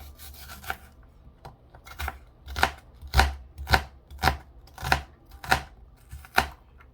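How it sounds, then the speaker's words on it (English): A knife chops through an onion on a board in a steady series of about ten crisp, close cuts, each a sharp thud with a brief scrape. "I'm cutting up my onion my way"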